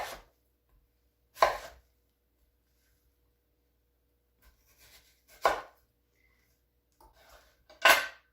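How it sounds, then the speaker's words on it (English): A knife chops through watermelon in four separate sharp cuts with long pauses between them, each a crisp, close thunk against the board with no talking. "So you just kind of slice thin slices."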